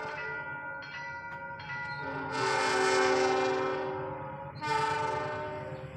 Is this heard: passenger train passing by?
yes